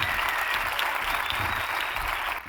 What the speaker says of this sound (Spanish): yo creo que se merecen un fuerte aplauso